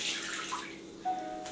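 Water being poured out of a container, a steady broad splashing gush with a brief trickle near the end, close and moderately loud with no talking.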